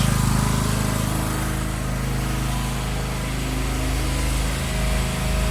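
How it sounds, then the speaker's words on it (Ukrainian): A portable generator's small engine runs in a steady, loud, unbroken drone with a constant mechanical hum throughout, with no voices. "сам генератор працює далі."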